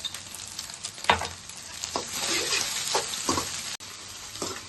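Egg frying in oil in a pan on a low flame, a steady sizzle broken by several short scraping stirs, close and moderately loud with no talk.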